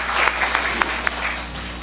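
A church congregation applauds together, a dense and steady burst of clapping close by that carries on for a couple of seconds.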